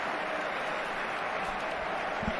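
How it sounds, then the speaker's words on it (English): A football stadium crowd at the Bernabéu applauding during a Real Madrid match, a dense, steady wash of clapping and crowd noise heard from a distance. "The crowd appreciates the effort"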